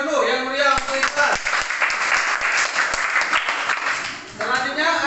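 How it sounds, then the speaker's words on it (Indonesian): Elementary school classroom applause for a student named Iqbal, a steady wash of children's clapping filling the room for about five seconds, with voices talking over it near the start and end. "Tepuk tangan dulu yang mulia untuk Iqbal."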